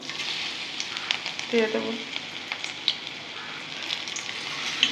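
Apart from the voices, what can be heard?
jute leaf fritters frying in hot oil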